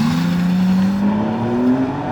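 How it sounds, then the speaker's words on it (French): A BMW M3 Touring Competition engine revs loud and close, its pitch climbing steadily through a smooth, strong drone with no voices over it. "on dirait que du M3"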